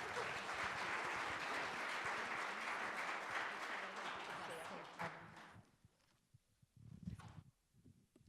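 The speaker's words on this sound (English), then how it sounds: "Give her a big round of applause, please." An audience claps loudly at a school district governing board meeting, a sustained round of applause that fades out after about five seconds, followed by scattered rustling and a brief voice.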